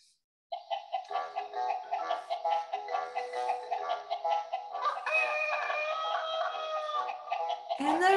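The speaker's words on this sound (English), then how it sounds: "The chicken on the farm says buck, buck, buck, all day long." A toy farm-animal sound box plays a recorded hen clucking in a steady run of short calls, then a rooster crows loudly and long, close and alone with no talking.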